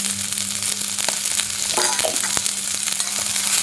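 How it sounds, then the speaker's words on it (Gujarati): Cabbage and green chillies fry in a pan with asafoetida and turmeric, giving a steady close sizzle with occasional stirring scrapes, no voices. "મરચાં સતરાઈ જાય એટલે કોબી નાખી સ્વાદ પ્રમાણે મીઠું નાખી દઈશું"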